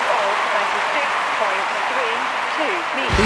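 A stadium crowd applauds and cheers in the London 2012 video game after a javelin throw, a dense, steady roar of clapping that continues under a commentator's voice.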